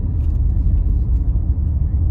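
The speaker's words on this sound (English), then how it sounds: "My Explorer's four-wheel drive" A Ford Explorer with four-wheel drive rolls along a sandy back road in Rusk County, its engine and tyres giving a steady, loud low rumble that holds without a break.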